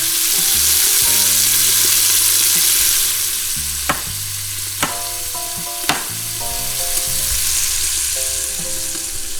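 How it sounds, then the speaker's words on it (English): Bacon sizzles in a pan with a constant crackling hiss, punctuated by a few sharp scrapes or clinks from stirring, with faint background music. "I go ahead and cook the bacon in there"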